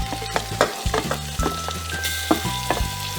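Onions frying in a pan for mushroom biryani, a loud close sizzle broken by repeated stirring scrapes and thumps of the spoon, no talking.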